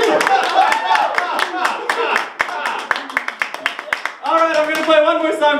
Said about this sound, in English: There's no need to hold your applause